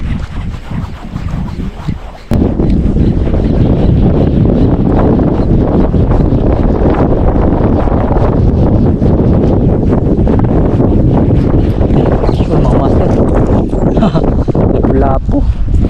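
Strong wind at sea roars and buffets across the microphone aboard a small boat, loud and continuous with rushing gusts, while someone talks briefly over it.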